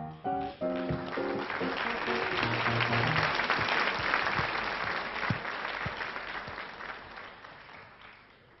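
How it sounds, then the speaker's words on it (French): A television studio audience at a children's singing contest breaks into steady clapping after a brief musical sting, the applause swelling to a full, even roar before gradually thinning out. "On te reconduit sous les applaudissements"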